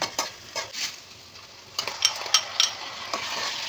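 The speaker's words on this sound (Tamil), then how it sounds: "2 தக்காளி ஆட் பண்ணிக்கலாங்க. அதையும் நல்லா வதக்கி விட்டுலாம்." Onion, dried chilies and tomatoes being sautéed in a kadai give a soft sizzle beneath a series of sharp metallic scrapes and clinks from a spoon against the pan, close and uneven.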